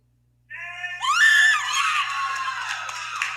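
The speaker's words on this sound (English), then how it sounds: "Me screaming." A person screams loudly and alone for about three seconds, a sustained high-pitched cry that rises sharply and then holds steady, close to the microphone.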